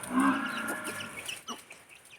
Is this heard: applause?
no